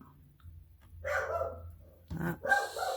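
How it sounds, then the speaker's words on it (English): Dogs bark in a home craft setting, a few muffled, fairly faint barks from another room over low background noise. "Sorry, there's my lovely dogs."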